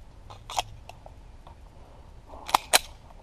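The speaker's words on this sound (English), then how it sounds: "First, I want to do a draw and fire. Just a single shot." A Springfield Armory XD40 Mod 2 subcompact pistol fired on a draw at about five yards, giving a faint early crack and then two loud, sharp reports close together, with no speech.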